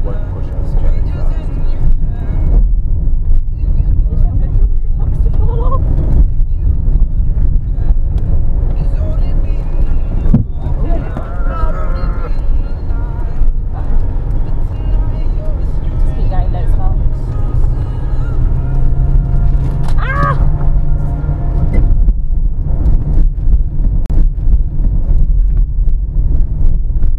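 A Nissan Micra climbing the Pamir Highway over a high mountain pass, its engine a steady low drone under heavy wind rumble, with voices occasionally audible inside the car.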